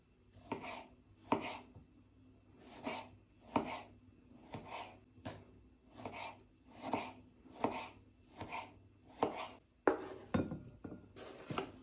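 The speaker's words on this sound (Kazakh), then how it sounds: "Ендігі кезекте қызанақты турап аламыз." Tomatoes being cut with a knife on a board for a salad: a long run of about a dozen crisp, evenly spaced chops, close and fairly quiet, with no one talking.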